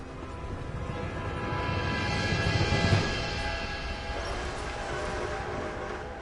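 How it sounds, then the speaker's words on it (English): A train approaching in the video game Red Dead Redemption 2, a broad rumbling roar that swells steadily, peaks near the middle and stays loud and continuous to the end, with no speech over it. "A train! Come on, quick!"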